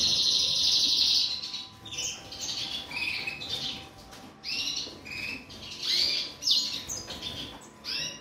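Cage birds in an indoor birdroom chirp and squawk, with a burst of bright twittering at the start, then a string of shorter, sharp calls, moderately close.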